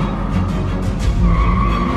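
A car skids in a brief, loud tire-and-engine sound effect for a Minions stop-motion scene, with a rough screech over a low rumble.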